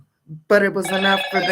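A telephone rings loudly and continuously, its bright electronic tone starting abruptly after a brief quiet moment while a person keeps talking over it.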